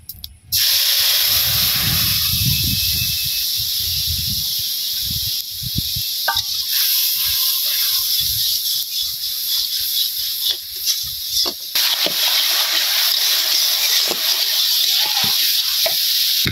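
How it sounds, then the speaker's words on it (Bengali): Spice masala with cumin fries hard in a pan for a fish curry, giving a loud, steady sizzling hiss that carries on throughout, with occasional stirring scrapes near the start. "মাছের ঝুলটা সম্বাস দিয়ে আমি এখন এই যে মশলাটা কষাই নিলাম"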